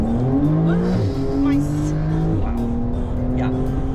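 A Porsche 992 911 4S accelerates hard, its engine note climbing through rising sweeps with quick gear changes, loud and close from inside the car.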